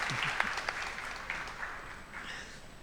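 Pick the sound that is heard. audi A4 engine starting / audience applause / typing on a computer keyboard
audience applause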